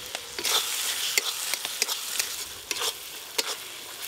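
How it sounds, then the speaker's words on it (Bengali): Spices being stirred and fried in a pan for khichuri, with a steady close sizzle broken by repeated scraping strokes of the spoon, no voices. "খিচুড়ির জন্য মশলা তো বেশ ভালো করে কষে নিলাম"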